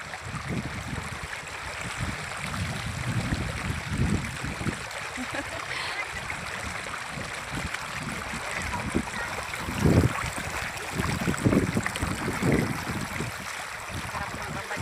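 River water flows steadily at a swimming spot on the Angat river, a continuous wash with occasional louder splashes. Faint voices are heard under it.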